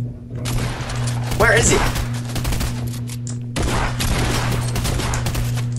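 Bursts of rapid gunfire ring out in a Fortnite match, loud and nearly continuous with a short break, while a player talks over the shooting.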